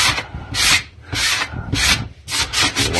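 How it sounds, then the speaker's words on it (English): Sanding sponge rubbed over a drywall patch to knock off rough bits; close, brisk scratchy strokes in a quick repeating rhythm, loud and alone with no talk. "going to take a sanding sponge and sand all the little shags off"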